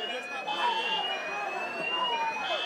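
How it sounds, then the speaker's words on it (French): A party's fire alarm sounds a steady, piercing electronic tone that holds throughout, with a murmur of voices underneath. "La fête vient à peine de commencer quand l'alarme incendie se déclenche."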